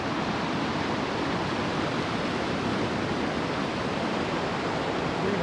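Snowmelt-swollen river rushing over a line of big boulders, a steady loud broadband roar of churning water filling the whole stretch without letup.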